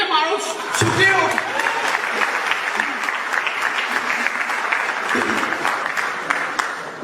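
An audience claps vigorously and continuously for a young performer imitating Pakistani politicians, dense hall applause with a few shouts and voices mixed in, fairly loud throughout.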